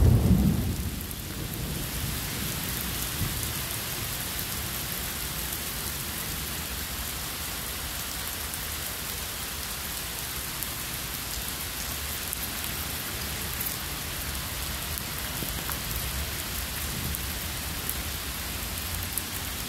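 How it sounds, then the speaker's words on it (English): Steady rain pours down on a park in Chicago in a continuous hiss, with a low rumble near the start; no voices, just the even wash of rainfall throughout. "It's raining in the park."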